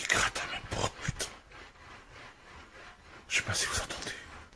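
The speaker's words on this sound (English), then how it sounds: "Quelqu'un qui gratte à ma porte" Scraping and scratching at a door at around four in the morning, rough rasping bursts in a quiet room, with faint breathing or murmuring in between.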